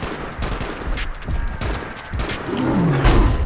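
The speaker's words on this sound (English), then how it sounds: "we're going to pick the Anti-Armor 50 cal machine gun" Anti-armor .50 cal machine gun firing in Fallout 76, rapid bursts of gunshots that grow louder toward the end.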